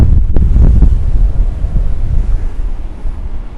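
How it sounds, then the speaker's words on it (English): Strong offshore wind buffeting the microphone at the sea, a loud, gusty rumble over the wash of waves, with a few thumps early on. "There's quite a offshore, the wind is blowing offshore"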